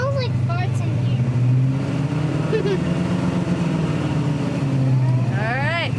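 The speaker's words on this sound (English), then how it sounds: "give it some more gas and then hold it right there" Engine of a 1956 Ford F100 pickup truck idling and revving steadily close by, a low continuous rumble with slight swells in pitch, while people talk over it.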